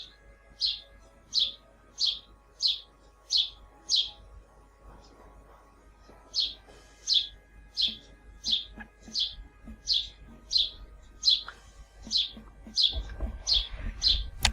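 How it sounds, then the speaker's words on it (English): A bird chirps in a steady series of short bright tweets, evenly spaced and fairly close, with a short gap midway, over low murmuring talk and a rising low rumble near the end. "it sounds like you have a bird on your shoulder by now."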